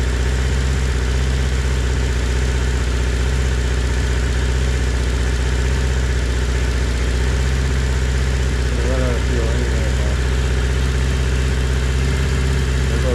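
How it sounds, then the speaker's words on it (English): A 1980 Honda CB650 motorcycle idling with a fuel supply running low, a constant close engine drone that surges as the idle rises on its own. "You can tell it's starting to rev up on its own."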